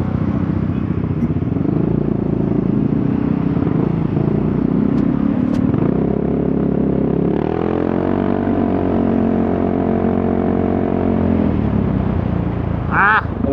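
An Italjet motorcycle engine runs steadily up close, a loud, even drone that shifts slightly higher partway through and holds before easing off near the end, with no talking.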